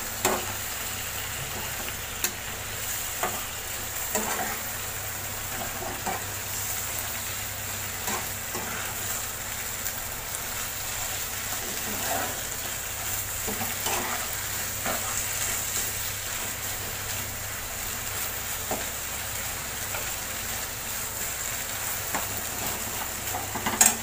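A spice paste of coconut and beans sautés in a pan after the grinding bowl's rinse water goes in, giving a steady, close sizzle and fry with occasional stirring scrapes, no voices.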